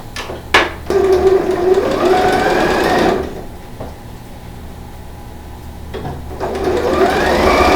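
Sewing machine stitches a fabric strap up close, its fast whirring run stopping and restarting in loud bursts with short quieter gaps between.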